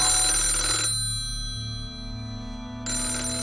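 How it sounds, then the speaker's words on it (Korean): A telephone rings loudly with a steady electronic ringtone, its bright tonal pattern dropping away for about two seconds before resuming near the end. "전화 한 통이 걸려옵니다"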